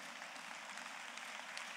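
A keynote audience at a school district operations convocation gives steady, even applause, a dense wash of many clapping hands heard at some distance, with no voices over it.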